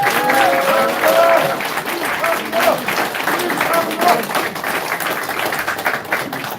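Loud, sustained applause from a crowd at a press conference where a local party committee chair announces his candidacy, the clapping dense and continuous, with voices talking faintly over it.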